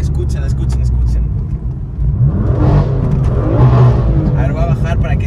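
Loud car exhaust revving with a couple of rough surges and crackling pops as the engine climbs and drops, a deep rumble underneath and voices talking over it.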